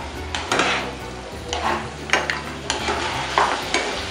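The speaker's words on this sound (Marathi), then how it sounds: "पुन्हा एकदा मिक्स करून घेऊया." Food stirred and mixed in a frying pan, sizzling steadily while a utensil scrapes and knocks against the pan in repeated strokes, close and alone.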